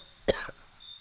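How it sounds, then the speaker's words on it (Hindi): A man coughs once inside a house, a single short harsh bark followed by a fainter trailing rasp, close and alone against a quiet room. "अंदर से खांसने की आवाज आई।"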